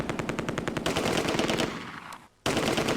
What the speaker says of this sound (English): they're chucking grenades at those guys